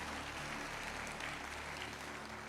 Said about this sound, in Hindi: सर दिल से सारे के सारे लोग तालियां बजाएंगे।